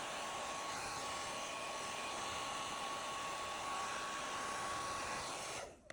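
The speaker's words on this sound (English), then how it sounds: "we use a hairdryer to slowly and evenly heat the screen until the adhesive softens" Hair dryer blowing on an iPhone 12 Pro screen to soften the adhesive: a steady, even whoosh with a faint high whine, close and unbroken, cutting off at the end with no talk.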